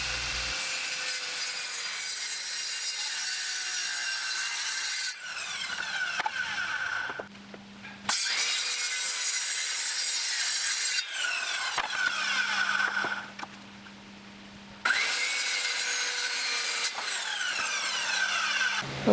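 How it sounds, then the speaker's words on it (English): A circular saw cuts through wooden boards in three long passes, each a loud, high whine of blade in wood with brief dips in between and a lower motor hum as it spins down. "After the first cut, you take the boards off and make the second cut using the scored mark from the first cut"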